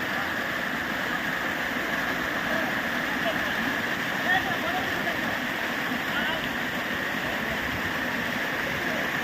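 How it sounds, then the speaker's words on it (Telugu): Water streams down a hill over rocks in a village, where people bathe below. The rush is a constant, even wash that stays close and loud throughout. "ఇలా వస్తుంది వాటర్ ఫ్లో పైనుంచి,"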